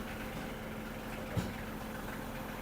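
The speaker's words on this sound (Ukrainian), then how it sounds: "Виїжджає малюк нашої поставки Кубота Б40" A Kubota B40 compact short-wheelbase tractor with a 14-horsepower engine idles and rolls out. Its low, steady engine hum is fairly faint, with one small knock partway through.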